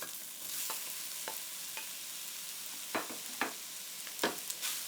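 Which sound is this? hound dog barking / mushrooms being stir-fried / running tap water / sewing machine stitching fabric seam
mushrooms being stir-fried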